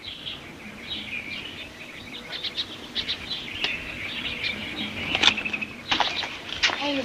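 Birds near a berry patch, a lively mix of small chirps and tweets scattered throughout, moderately close and growing busier toward the end, with no talk over them.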